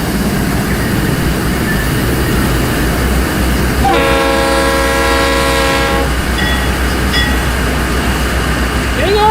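A CSX freight train in the Rolling Line railway game rumbles past loudly and continuously, with a sustained horn blast in the middle and a fainter second toot afterward.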